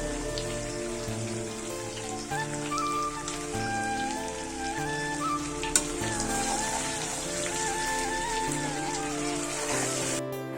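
Meat frying and being stirred in a pan during kosha cooking at home, a steady, dense sizzle running throughout under continuous background music.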